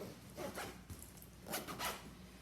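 Two quick rasping zipper pulls on a pocket of a Vera Bradley weekender bag, close and fairly quiet, each a short scratchy burst with a pause between.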